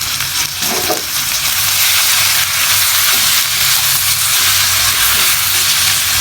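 Bitter gourd leaves, green chillies and potatoes fry in a pan with a steady, loud sizzle and hiss that runs unbroken throughout, with faint stirring beneath.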